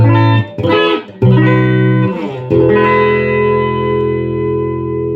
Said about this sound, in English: That's definitely some flange.